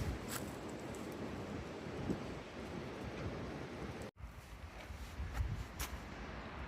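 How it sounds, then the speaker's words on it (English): Wind gusting along a forest trail scattered with blown-down trees, a steady broadband rush with rising swells and rustling, buffeting the microphone, with a brief dropout near the end. "The wind is picking up."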